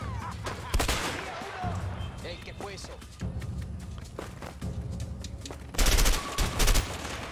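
Video-game gunfire in a shootout with arriving enemy reinforcements, bursts of shots recurring through the clip and growing heavier near the end, mixed with someone talking over it.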